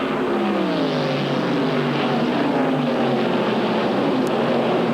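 ARCA stock race cars restart under the green flag coming off the fourth corner, a loud pack of engines droning together with their pitch rising as they accelerate, continuous and close, with no talk.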